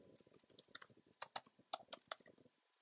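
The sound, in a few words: typing on a computer keyboard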